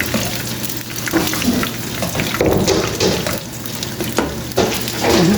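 Spring rolls and sambusa fry in hot oil, a continuous bubbling sizzle with crackling bursts and swells in intensity, close and steady with no talk over it.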